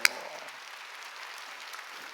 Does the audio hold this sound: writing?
no